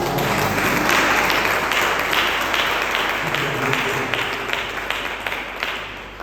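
A church congregation at a Holy Communion service applauding to acclaim Jesus, with dense, sustained clapping from many hands that eases slightly toward the end, mixed with crowd voices.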